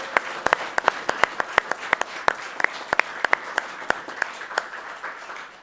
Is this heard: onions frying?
no